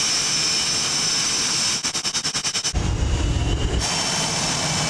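A Blue Angels jet rolls for takeoff, its steady loud jet roar pulsing briefly before surging into a deeper, heavier rumble as power comes up, then settling back to a constant whine.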